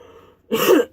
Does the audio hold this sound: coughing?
yes